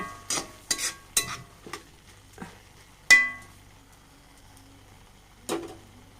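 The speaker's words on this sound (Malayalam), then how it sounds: "ഇതാ ഒക്കെ ഒന്ന് വറ്റി വന്നിട്ടുണ്ട് നല്ലപോലെ നമുക്ക് ഇളക്കി കൊടുക്കാം" A spoon stirs chickpea kadala thoran, cooked down and nearly dry, in a pan: a quiet series of separate scrapes and metallic clinks, with one sharper knock midway, over a faint background sizzle.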